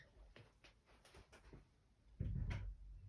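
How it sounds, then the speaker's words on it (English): A cat scratches at a door indoors, giving a run of soft, rough scraping bursts that ends in a louder, heavier rattle near the close. "The cat is scratching at the door again."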